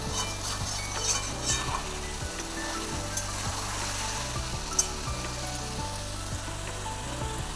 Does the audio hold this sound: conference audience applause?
no